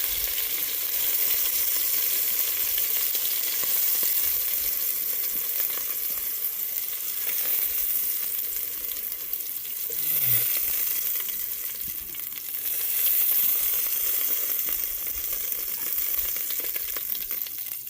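Pieces of beaver meat fry in a pan with a steady, close sizzle and crackle that swells and fades slightly, with a brief scrape of a utensil partway through and no talking.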